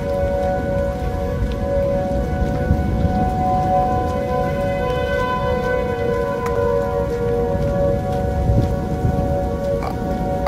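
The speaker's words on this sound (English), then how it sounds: "all the tornado sirens in my neighborhood accidentally harmonized" Several neighborhood tornado sirens wail at once, their sustained tones blending into a steady chord, heard from afar over a hiss like rain.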